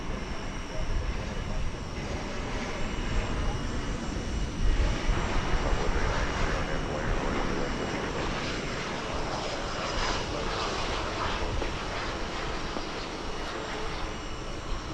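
A jet airliner at Dallas/Fort Worth International Airport roars steadily in the distance, a broad sustained engine rush holding for the whole stretch under occasional faint talk.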